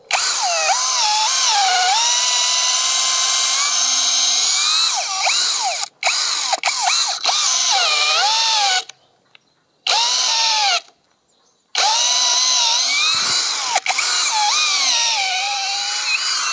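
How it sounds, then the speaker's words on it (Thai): An IMAX IMCD-20BL cordless drill bores into wood in long whining runs, its pitch sagging under load and rising again, with brief stops and restarts, close and loud with no talking. "วิธีผ่อนแรงให้สว่านก็คือเราต้องเวลาเจาะไม้เราต้องดันให้ลากออกมาให้ขี้ไม้มันออกก่อนนะครับ"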